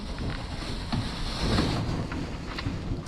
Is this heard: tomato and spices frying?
no